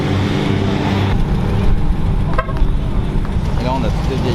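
Old Porsche cars leaving in a convoy at a gentleman driver day, with engines rumbling loudly and close by, passing traffic, and a short horn toot in the middle.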